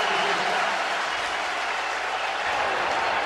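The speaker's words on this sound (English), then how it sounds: "he said he wanted some noise from the crowd, and he has gotten it today" Loud, steady roar of a stadium crowd at a 2004 Patriots at Steelers NFL football game in Pittsburgh, a continuous wash of cheering and noise with no breaks.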